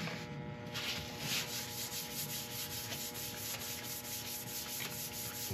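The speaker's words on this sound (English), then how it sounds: "I'll clean off all the residue with a bit of isopropyl." Cloth wiping turned yew and honeycomb resin with isopropyl alcohol, a steady close rubbing that runs without pause over a low motor hum.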